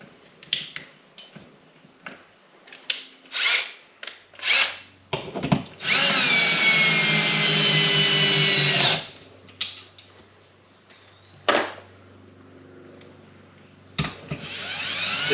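A power drill drives 2.5-inch lag bolts into a 2x4 stud: a loud sustained whir of about three seconds mid-clip, set among short clicks and taps of handling before and after.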